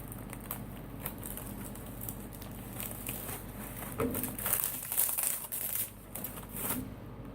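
Plastic bag crinkling and crushing while a Heater Meals Plus Southwest Chicken ration is handled, a soft steady rustle with a few louder crackles midway and no voice.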